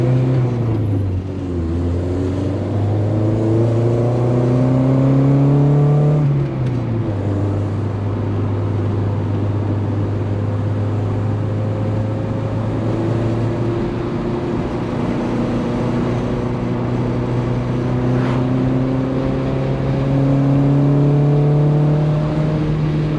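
A 1987 Pontiac Fiero GT with a K20 engine swap on its first drive in eight years, the engine droning loudly from inside the cabin and climbing in pitch through gear pulls, then settling to a steady cruise.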